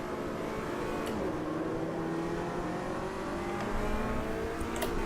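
A GT racing car engine in the racing game Automobilista 2 screams continuously at high revs, with brief blips as it shifts down, steady and loud throughout.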